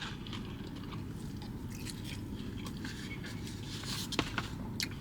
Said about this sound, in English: I gotta get one more bite with everything mixed up nice